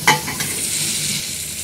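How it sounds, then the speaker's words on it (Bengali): Chicken going into a spice masala that has released its oil: a sharp burst of sizzle and stirring at the start, then an even, close frying hiss with no talk. "মশলার থেকে তেল ছেড়ে গেছে, এখানে চিকেন দিয়ে দেবো"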